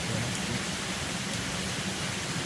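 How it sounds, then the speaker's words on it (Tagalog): Steady nighttime rain hisses evenly on a surface, a constant wash of close, moderate noise with no pauses. "Ulan na siya."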